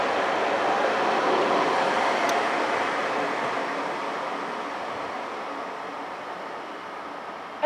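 A train departs Vienna main station with a broad, steady rumble and rushing roar. It fades slowly as it pulls away, with a brief high squeal partway through and no voices.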